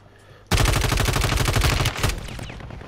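A loud burst of rapid automatic gunfire in a first-person shooter video game starts abruptly and runs in a fast, even rhythm for about a second and a half, then quieter shots trail off.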